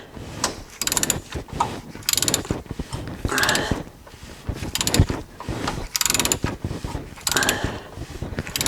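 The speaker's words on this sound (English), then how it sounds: "So now the cams are cycling, the valves are cycling, the pistons are going up and down." A Volkswagen Jetta engine being turned over, its cams, valves and pistons cycling, gives close, repeated bursts of mechanical clicking and ratcheting in an uneven rhythm, with no talking.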